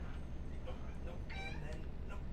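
Several cats meow ahead of their dinner, short rising cries that pop out here and there over a low steady hum, with a voice talking underneath at times.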